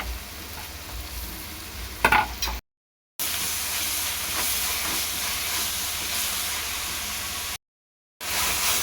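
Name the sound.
sautéing ginger garlic paste, green chillies and mint in a pan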